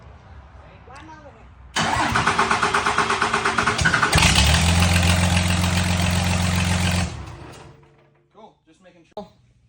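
A scrap-built burnout truck engine cranks over, catches and runs with a deep rough roar that rises partway through, then cuts off; brief voices are heard before and after.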